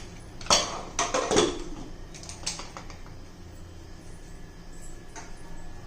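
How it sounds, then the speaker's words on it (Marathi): A metal pressure cooker lid being fitted and closed on a pot of boiling peanuts, a few sharp clanks and rattles early on, then fainter clicks over a quiet room. "आणि झाकण लावून घ्यायचं"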